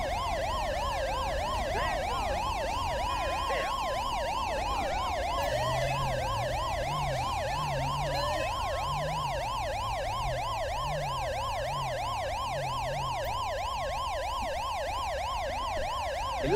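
An ambulance siren in the GTA V LSPDFR mod cycles in a rapid yelp alongside a slower wailing sweep. A lower pulsing tone joins midway, and the sirens ring steady and prominent with no one talking.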